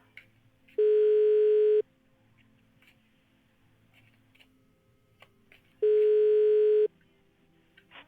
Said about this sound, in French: C'est marrant ce téléphone